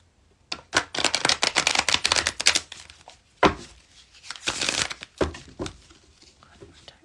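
Tarot-style cards are shuffled hard during a channeled reading: quick crisp riffles and flutters close by in several bursts, with short pauses and slaps between them.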